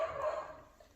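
Several dogs bark excitedly at a delivery driver, a short close burst of barking that fades slightly toward the end.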